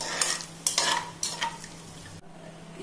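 Cashews frying in ghee are stirred in the pan, giving several quick scraping strokes over a light sizzle, then an abrupt drop to a quieter background hiss.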